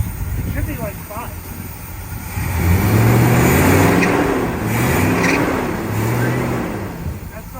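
A Pontiac engine revs in the open at a drag-strip car show, the note climbing and holding in loud low surges several times, with people talking nearby.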